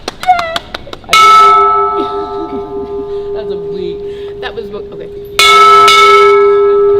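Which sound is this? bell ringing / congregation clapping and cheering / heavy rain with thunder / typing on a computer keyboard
bell ringing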